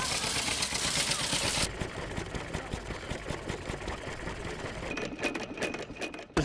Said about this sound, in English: the engine is actually making is where it's bouncing on its governor